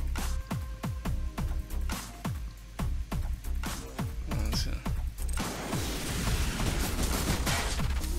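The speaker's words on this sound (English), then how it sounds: "Explosions are usually fun for all involved." Rocket launcher fire in the tactical video game Frozen Synapse: a rapid run of sharp, punchy bursts with low thuds, then a denser rumbling crackle of blasts that swells and lingers toward the end.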